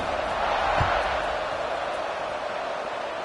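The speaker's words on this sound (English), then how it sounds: "this crowd is buzzing after that last score" A stadium crowd at a Navy versus Rice college football game keeps up a steady, broad buzz, distant and continuous, with faint talk mixed in.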